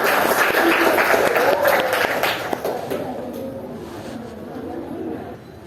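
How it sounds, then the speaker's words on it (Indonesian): Classroom applause for a student group that has just presented, a dense burst of clapping that starts loud and slowly thins and fades over a few seconds, with voices mixed in. "tepuk tangan pada kelompoknya dulu"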